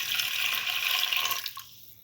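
Water, 200 ml, is poured into a cooking pot in a steady close splashing stream for about a second and a half, then trails off to faint drips.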